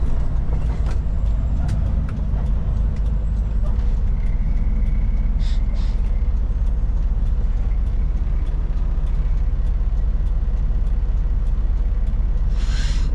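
A truck passes along a tight little street, heard from inside the rumbling cab of a road train on the Adelaide to Brisbane run. Its heavy engine drone is steady and close, with a brief hiss near the end.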